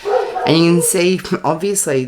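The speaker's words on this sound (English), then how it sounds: "You'll have to excuse my little dog." A small dog barks in short sharp bursts close by, several yips overlapping a person talking indoors during a craft demonstration.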